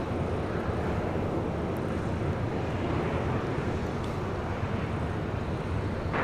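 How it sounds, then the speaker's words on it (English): An American Airlines Airbus A321 takes off at LAX, heard as a steady broadband roar with a low rumble, distant and unbroken, with some wind buffeting and no voices. "Next takeoff is American Airlines Flight 721 heading to Phoenix, Arizona in the A321."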